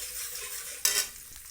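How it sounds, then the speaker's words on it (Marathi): Garlic frying in hot oil gives a bright, close sizzle, then a sudden louder burst of crackling as a spatula stirs, settling back to a softer hiss. "हे आपण लसूण टाकूया तेलामध्ये चांगला मस्तपैकी फ्राय करूया"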